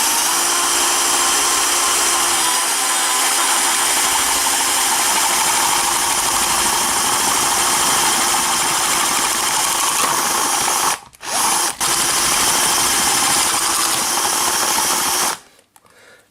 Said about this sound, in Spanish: Sujetamos bien la caja y taladramos despacio.